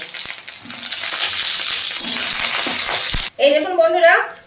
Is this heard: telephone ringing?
no